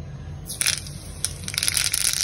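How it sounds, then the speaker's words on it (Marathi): Mustard seeds splutter in hot oil for a tadka meant for a chutney, bursting in sharp, crackling pops that come in irregular clusters close by, with quieter sizzling between them. "राई चांगली तडतडली आहे."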